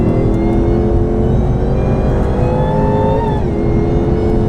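A Hennessey HPE750 Mustang at full throttle on a race track, its engine a loud, continuous roar close by. The pitch climbs steadily, drops briefly at a gear change, then rises again.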